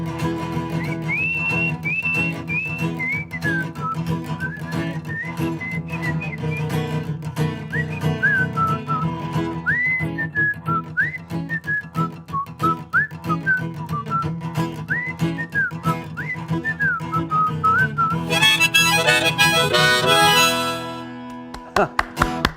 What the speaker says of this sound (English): Kind of early for whistling.